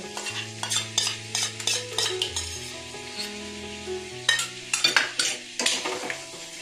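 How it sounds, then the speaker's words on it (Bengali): Sour yogurt being stirred into chicken dopiaza in a pan, with soft sizzling under rhythmic scrapes and clinks of a metal spoon against the pan, close and without talk. "তারপর ভালো করে নাড়িয়ে চাড়িয়ে মিশিয়ে নেব।"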